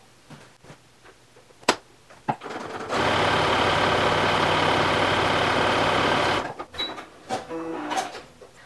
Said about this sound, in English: I need to stitch down this short edge on each of them.